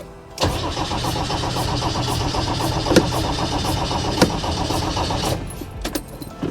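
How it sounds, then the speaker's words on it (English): Engine of a 35-year-old Land Rover Defender cranking on the starter motor without firing, a steady, rhythmic churning that runs continuously for several seconds close by and then cuts off. "It's turning over. Start motor's working."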